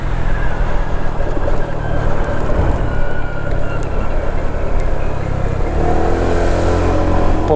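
A 2016 Honda PCX 125 scooter riding along, its engine drone and wind rush loud and constant close to the rider, with the motor note rising slightly near the end.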